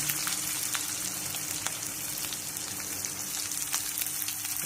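Mustard seeds, cumin and onion sizzle in hot oil, a steady crackling hiss with scattered sharp pops, close and continuous throughout.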